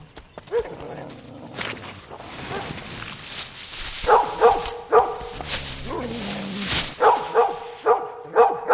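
A dog barks outdoors among trees while digging, giving several loud barks in two separate clusters with rustling and background noise between them.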